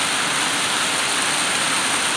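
Heavy June summer rain pours down in Adana, Turkey, drops drumming straight onto a phone's camera lens in a dense, steady, close hiss that never lets up.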